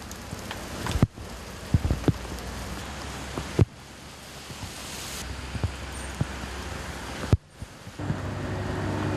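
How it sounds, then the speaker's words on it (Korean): A sudden heavy rain shower pours down on a construction site where centuries-old pine trees are being transplanted. A steady wash of rain is broken by scattered sharp knocks and thuds, with some wind noise. "갑자기 구름이 몰려온다 싶더니 비가 쏟아진다."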